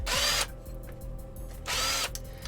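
A power drill whirs loudly in two short bursts, close up, with a quieter mechanical hum between them and no talking.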